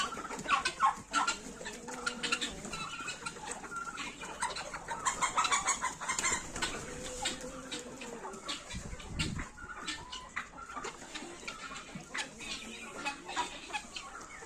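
Several chickens cluck and murmur close by, with short bursts of clucking and bird chatter over quiet farmyard background, faint voices occasionally.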